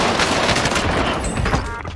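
Rapid bursts of gunfire from a Call of Duty: Vanguard battle royale quads match, loud and dense throughout with overlapping shots and no talk.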